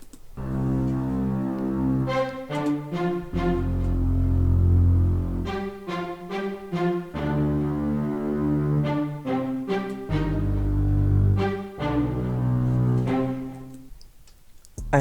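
An orchestral string sample with spiccato bowing and filter delay plays rhythmic, echoing chords and stabs throughout a jazz-style beat production, with no talking.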